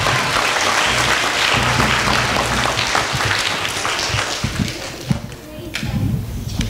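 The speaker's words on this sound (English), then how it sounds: "how about if we give a big round of applause for Mr." Applause at a school Black History Month assembly, a dense steady round of clapping from a large audience that carries on for several seconds, then thins with scattered claps and a few thumps toward the end.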